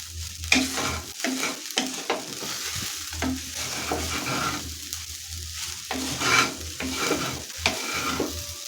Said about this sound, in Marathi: झाकण काढून एकदा हलवून घ्यायची आहे म्हणजे खाली जास्त लागत नाही